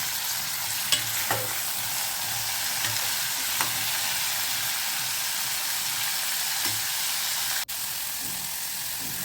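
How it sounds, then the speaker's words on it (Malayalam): Onion, tomato, ivy gourd and beans sauté in a pan for a Kerala nadan theeyal, giving a steady, close sizzle with occasional stirring clinks and scrapes and no voices. "ഇതെല്ലാം ചേർത്ത് നമുക്ക് ഒന്ന് വഴറ്റിയെടുക്കാം."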